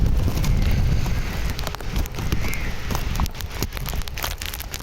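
Steady rain falls outdoors on a quiet, deserted street, a broad continuous wash of patter and hiss with scattered sharper drops, fairly close and even throughout with no talk.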